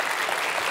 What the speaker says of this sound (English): I want you to clap enthusiastically like someone famous just walked in, like really, really loud